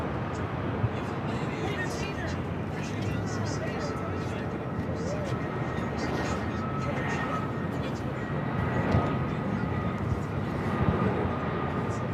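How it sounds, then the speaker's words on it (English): An Airbus A320 airliner on flight 1517 from Kansas City comes in to land, giving a steady broad engine roar that swells slightly toward the end. Talk is heard faintly underneath. "Flight coming in from Kansas City, flight 1517. It's an A320."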